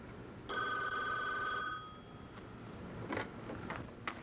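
A telephone rings for a Crime Stoppers tip line call: one sustained electronic ring of about a second, clear and fairly close, then fading, followed by faint clicks and rustles.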